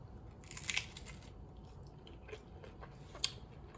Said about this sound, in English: It's hard to be cute eating a taco.